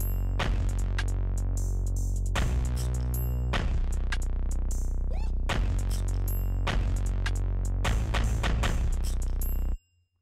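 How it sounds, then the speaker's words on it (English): Drill beat drums programmed in FL Studio playing alone, a heavy booming low bass pulse under sliding 808s with crisp snare and hi-hat hits in a steady pattern, loud throughout before cutting off at the end. "And here's what the drums sound like alone."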